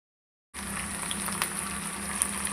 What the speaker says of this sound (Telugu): ఇలా ఫ్రై చేసుకోవాలి కొద్దిసేపు వరకు.